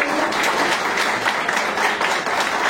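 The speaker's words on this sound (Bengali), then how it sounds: "একটা জোরে হাততালি" Loud, continuous applause from a crowd at a jewellers' 65th anniversary celebration, with many overlapping hand claps forming a dense, rhythmic roar with no talk over it.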